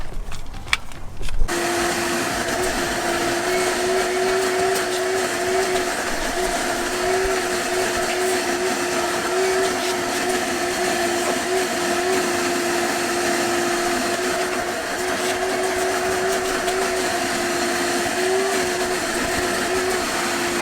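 A vacuum cleaner runs steadily inside a 1997 Mitsubishi Eclipse GSX, cleaning out rat debris; a continuous loud whine with a steady tone starts after a brief clatter and holds unbroken.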